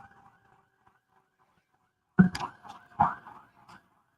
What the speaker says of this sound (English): They sure seem to use a lot of sirens over at the courthouse